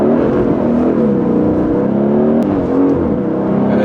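An Aston Martin fitted with an AMG engine runs in track mode, its loud, steady, throaty engine drone and rev close and continuous throughout.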